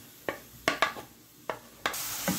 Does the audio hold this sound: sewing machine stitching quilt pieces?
no